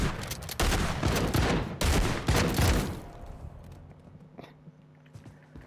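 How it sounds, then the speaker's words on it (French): Pump-action shotgun blasts in a video game, several loud, broadband shots in the first three seconds followed by a quieter stretch with faint game ambience and a sharp click at the end. "c'est le fusil à pompe"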